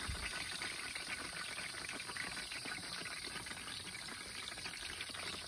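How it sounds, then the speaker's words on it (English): Steady, dense bubbling and frothy hiss of hot wax boiling hard and foaming as bee boxes are dipped, continuous and close with no pauses. "It's just boiling in there, foaming up, boiling the water out, I guess."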